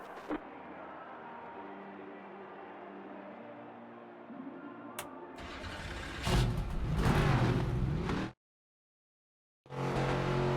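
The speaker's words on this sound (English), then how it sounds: "Drivers, start your engines!" Race car engines starting and revving in the NASCAR 25 video game before an ARCA Menards Series race at Lime Rock, a low idle that swells into loud revving, then cuts out briefly and returns.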